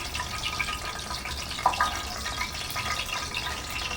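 Paneer pieces being set into warm water in a kitchen, a soft continuous watery trickle with a small splash midway, close and quiet without talk.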